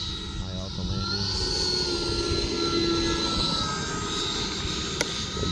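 An Avios MiG-17 RC jet fitted with an E-flite 80mm electric ducted fan flies a nose-high, powered landing approach, its steady whining fan drone sustained throughout with a voice talking over it.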